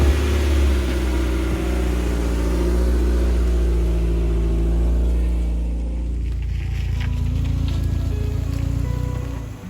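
A Mazda Miata drives after an oil leak repair, with a steady, loud engine drone and low road rumble from inside the car, easing slightly partway through before carrying on.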